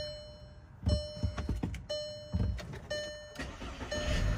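A 2011 Volkswagen Tiguan starting up, with several thunks and a short cranking burst followed by the engine catching and settling into a steady idle, heard close with no talk.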